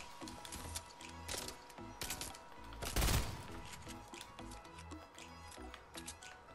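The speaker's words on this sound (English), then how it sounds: "Heard shots. I don't know where from, but I heard shots." Fortnite gunfire, faint rapid shots crackling in bursts with one louder blast in the middle, set among scattered game clicks and ticks.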